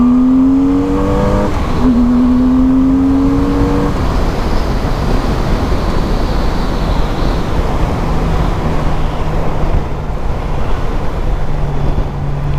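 Honda Rune motorcycle cruising at highway speed, a steady loud broadband roar of engine and wind rushing past, with a brief rising engine tone in the first few seconds before settling into continuous drone.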